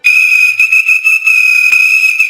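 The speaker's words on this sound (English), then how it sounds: "Give him a little bit of that whistle." A loud, sustained whistle blows continuously for a couple of seconds, held as one steady tone with small wavering pulses and no voices over it.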